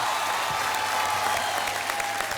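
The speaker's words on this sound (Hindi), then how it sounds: "तालियां!" Steady crowd applause from a television game-show studio audience, continuous dense clapping for a couple of seconds with no break.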